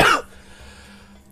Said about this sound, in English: And I hope my cough goes away.